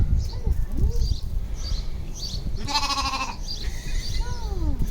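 A young lamb bleats several times on a farm, close and clear, with a brief harsher animal call in the middle and people talking quietly under the bleats.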